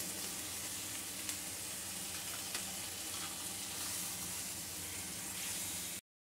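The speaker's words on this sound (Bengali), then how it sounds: "জলটা দিয়ে ভালো করে আমার এই মশলাটা কষিয়ে নেব" A spice paste with a splash of water sizzles and bubbles in a pan while cooking for a jackfruit seed vegetable dal, a steady close frying hiss that cuts off abruptly at the end.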